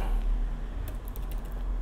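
Typing on the detachable keyboard case of a Xiaomi Pad 6 tablet, a soft run of light key clicks bunched in the second half, close and quiet over low background hum.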